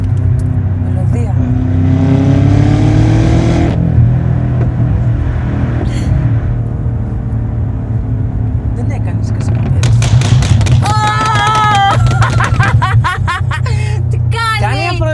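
A tuned BMW M5 Stage 2 with 750 horsepower roars loudly while accelerating, its engine note rising through the gears, then crackles with a rapid burst of sharp exhaust pops, as occupants speak and laugh.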